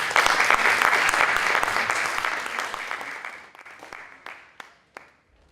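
Audience applause welcomes a speaker at a keynote education conference, a full burst of many clapping hands that gradually thins out, leaving a few last isolated claps before it stops.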